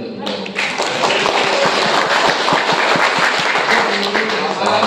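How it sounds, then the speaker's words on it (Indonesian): Crowd applause for a woman at an office meeting of a city manpower and industry department, a dense sustained wash of many hands clapping, loud and close, with some thumps and taps mixed in throughout. "Tepuk tangan dulu untuk Bu Nurul"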